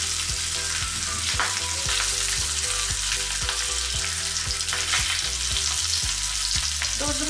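Food sears in wild boar lard in a pan over low heat, a steady close sizzle and crackle running throughout with regular low knocks from the pan or utensil.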